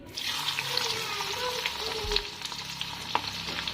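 Chopped ginger and garlic hitting hot oil in a pan while making veg momo stuffing, a steady close sizzle with a few sharp clicks and a brief low thump, no voices.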